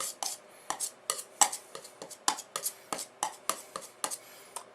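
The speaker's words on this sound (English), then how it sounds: "mix it up, right here in the center of the palette" A palette knife mixes phthalo blue and black oil paint on a palette, making close, crisp taps and scrapes in an irregular series of about a dozen strokes over a quiet background, with no talking.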